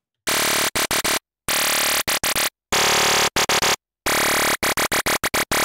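A Virus synthesizer emulator running on a DSP56300 plays loud, buzzy synth notes as it cycles through wavetables, with bursts of varying length separated by short silences and the timbre changing from note to note.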